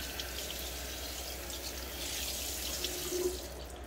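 Hot water runs steadily from a tap onto a folded shaving rag, a continuous broadband splashing hiss with a slight shift in tone near the end as the cloth soaks up the flow.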